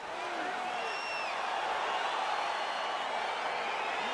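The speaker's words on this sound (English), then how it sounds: "crowd getting excited as this fight gets underway" An arena crowd at an MMA bout cheers in a steady roar as the fight gets underway, with scattered whistles and whoops rising over the broad murmur. The crowd sounds fairly distant and holds at a constant level.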